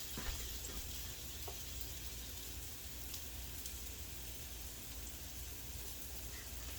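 Plantain slices fry on an open fire, giving a steady, faint crackling sizzle with occasional small pops and no voices.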